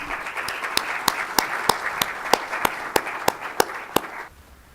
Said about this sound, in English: Please give a big round of applause for Sheikh Yusuf.